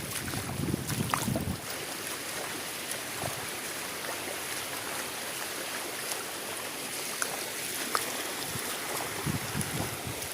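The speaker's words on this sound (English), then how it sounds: "Look how the water flows" Floodwater released from a dam rushes through the streets of Nehru Bazaar in a steady, broad roar, with gusts of wind buffeting the microphone throughout.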